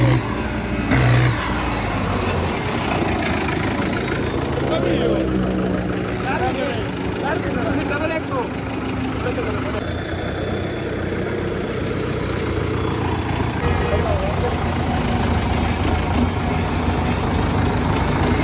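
A Sonalika RX 60 tractor idles during a tyre change with a continuous, steady diesel rumble. People talk over the engine at times.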